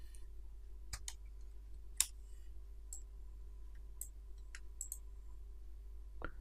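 Computer mouse clicks while navigating Windows settings: a handful of sparse, crisp single clicks at irregular intervals over a low steady hum, quiet and close, with no talking.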